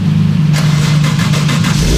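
A 2JZ-GTE engine swapped into a JZX100 Mark II, fitted with a new TRD exhaust, runs steadily up close with a smooth, fairly subdued hum and a few light blips of revving.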